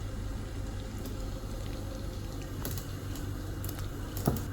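Water with soda added bubbles and simmers in a pot with pointed gourd (parwal), a steady low boiling hiss with occasional small pops, close by and without voices.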